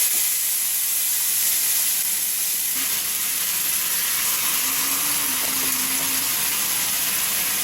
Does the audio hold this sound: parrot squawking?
no